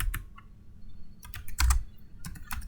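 Quick bursts of keystrokes as code is typed on a computer keyboard, close and crisp with uneven clusters of clicks and short pauses between them, and no voices.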